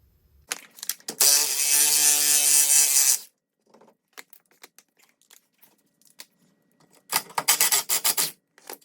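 A ratchet removes triple-square bolts from the CV axle flange of a Mk4 Jetta/Golf, with a long fast ratcheting buzz, scattered clicks and handling noises, then another burst of rapid ratcheting, close up.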